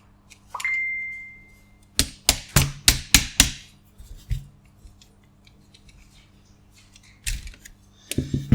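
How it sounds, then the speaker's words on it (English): Light metal taps on the side of an MPX Extremis SBB rifle receiver, struck to drive out a pin during teardown; a quick run of about five sharp, close taps, then a couple more after a pause. "just give it a little tap on the side."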